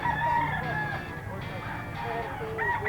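A bullstag gamecock crows a drawn-out cock-a-doodle-doo nearby, with other fowl calling and people talking underneath.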